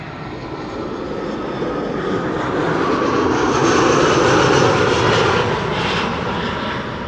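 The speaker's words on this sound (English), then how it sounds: "Lufthansa A320, flight 2304. That's what you're hearing. Arrival from Munich." A Lufthansa Airbus A320 arriving at Amsterdam Schiphol on a flight from Munich, a broad continuous jet roar that swells to a peak as it passes nearby and then eases slightly, with no voices.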